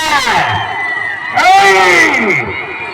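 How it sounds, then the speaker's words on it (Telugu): A large crowd shouts and cheers loudly at a bullock-pair cart-pulling contest, a dense swell of voices that surges midway through, continuous and close. "కేకలయ్యాల మరి జనాలు ఇప్పుడే గట్టిగా"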